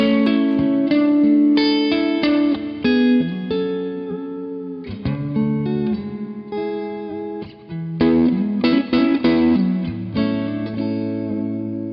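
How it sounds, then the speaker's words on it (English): Electric guitar through a Universal Audio UAFX pedal set to plate reverb, chords and single notes ringing out with a dense, shimmering tail, played alone without talk. "Then we've got the plate."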